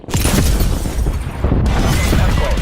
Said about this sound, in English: Cannon artillery.